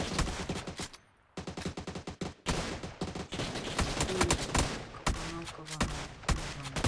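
Gunfire in the PUBG New State video game: dense rapid bursts of automatic shots with a brief pause, loud and close, continuing steadily to the end without talk.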